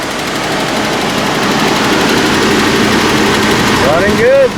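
A Nissan car engine runs steadily after a fuel pump replacement, giving a loud, continuous rumble with a rough, buzzy texture that holds evenly from start to finish.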